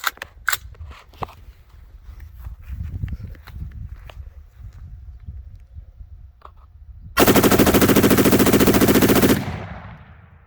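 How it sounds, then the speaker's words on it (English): 10.5-inch PSA AR pistol fitted with an Alamo 15 trigger firing a magazine in one very fast, continuous burst of about two seconds, loud and close, after handling noises and footsteps. "I'm going to run a mag here real quick to show you what we're talking about."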